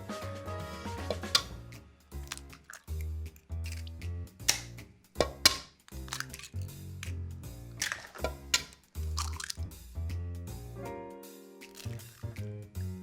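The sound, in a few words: eggs being cracked into a bowl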